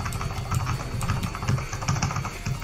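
Rapid computer keyboard typing during a League of Legends jungle match, a dense stream of quick clicking keystrokes over a low background hum, close and continuous.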